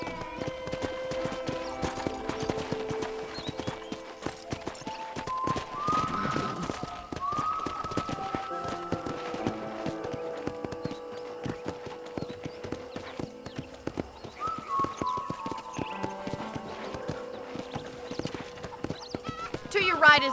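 Steady hoofbeats clip-clop at a trot with a horse whinnying, accompanied by rustling tack and background music-like tones, from horse riding in the video game Red Dead Redemption.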